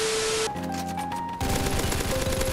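Roblox gore game gunfire, a dense continuous stream of rapid automatic shots, loud and close, with a brief shift in texture midway and no talk.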